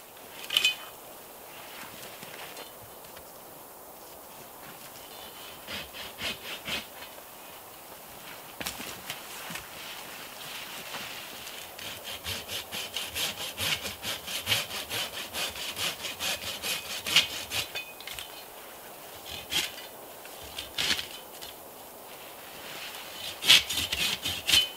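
A hand saw cuts through a tree branch in steady back-and-forth rasping strokes, getting louder and faster toward the end, with no talking.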